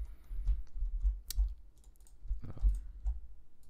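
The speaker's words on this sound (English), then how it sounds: "it's just my microphone sits on my desk, so it picks up all my keyboard sounds" Computer keyboard typing picked up by a microphone sitting on the same desk: a few irregular bursts of soft thumping keystrokes with heavy low-end knock, close and fairly loud, no talking.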